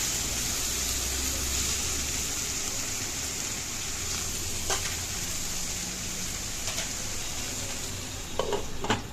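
Cabbage stir-frying in a pan with vegetables, peas and green chillies, a steady close sizzle with scraping stirs and a few sharper clinks of the spatula toward the end.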